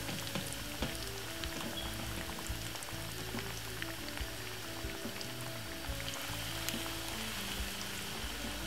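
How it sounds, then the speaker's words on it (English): Salmon fish frying in hot oil for a Jamaican escovitch recipe, giving a steady, dense sizzle and crackle that fills the whole stretch without a break or any talk. "So we're gonna make that fry for roughly about 10 minutes until they get crispy"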